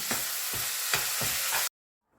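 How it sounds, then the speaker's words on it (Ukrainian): A potato patty filling is stirred and fried in a pan, with a steady loud sizzle broken by four or five scraping stir strokes before it cuts off abruptly into silence. "І все гарно примішую І обсмажую до готовності."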